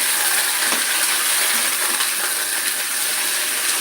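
Okra drops into hot oil with mustard seeds for a home-cooked sambar, setting off a loud, steady, close sizzle that hisses without a break throughout.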